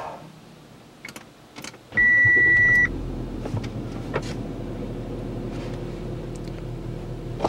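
An Audi Q7 from 2008, a 3.0 diesel, gives a single loud, steady electronic beep lasting about a second when signalled by a key fob with a weak battery, followed by a low engine hum in a quiet setting.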